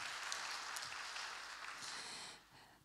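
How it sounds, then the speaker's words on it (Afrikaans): Applause from a church congregation rolls on steadily for a few seconds, heard faint and distant before tapering off at the end. "Ja, gee vir my 'n hande klap."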